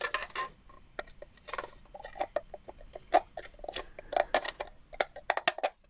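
Someone cuts down a plastic Worker Stryfe Afterburner blaster part, giving irregular close clicks, snaps and scraping bursts at an uneven rhythm with quiet gaps between them.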